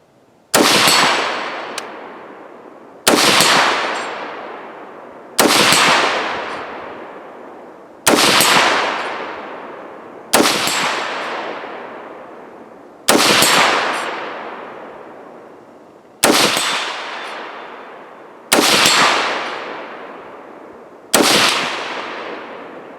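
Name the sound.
rifle shots, 55 grain, hitting steel flipper target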